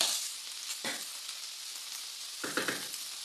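Chicken fries in a pan with black pepper, a steady soft sizzle close by and fairly quiet, broken by two brief bursts of stirring or scraping, the second around the end; no speech.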